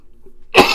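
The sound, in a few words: cough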